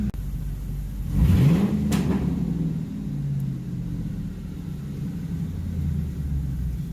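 A Ford Mustang engine revs up, its pitch climbing, then winds back down to a steady low idle rumble.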